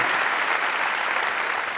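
A stand-up comedy audience deliberately gives weak, half-hearted applause, an even, diffuse wash of clapping with no peaks or cheers.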